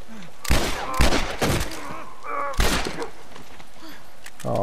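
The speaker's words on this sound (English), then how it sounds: "Oh, don't shoot me with my own gun." Several loud gunshots from The Last of Us, sharp separate cracks spaced unevenly over a few seconds, with brief voices and game sounds between them.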